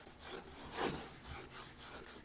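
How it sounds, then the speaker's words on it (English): Sandpaper rubs over brush strokes on a painted small wooden cabinet in a few quiet, soft scratching strokes, heard close and alone. "you want to give the brush strokes a quick sanding"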